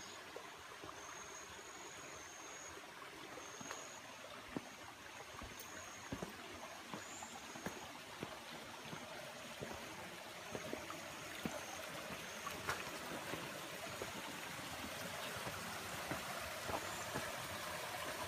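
Water trickling and dripping down a rock face beside an abandoned house outdoors, a steady soft splashing stream with faint scattered drips, continuous and moderately quiet with no talking.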